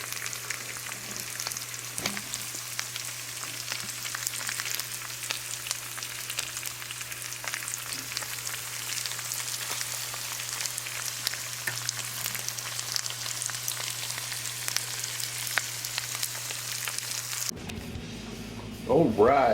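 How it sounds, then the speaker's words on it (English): Smoked pork belly sizzles and spatters steadily in a hot pan for a long stretch, with a low hum underneath, ending abruptly with a brief different sound. "smoked pork belly frying in a pan"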